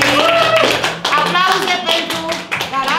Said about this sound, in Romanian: Aplauze pentru Radu Voicescu și iBook Square